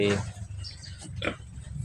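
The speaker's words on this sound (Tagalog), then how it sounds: "Ito yung ating mga alagang baboy." Pet pigs eat upo gourd on a provincial farm, grunting and snuffling close by in short, rough bursts, with a louder grunt near the middle.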